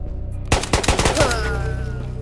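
An AK rifle fires in the VR shooter Ghosts of Tabor, with a loud, close burst of rapid shots after a short quiet start, followed by a ringing, echoing tail.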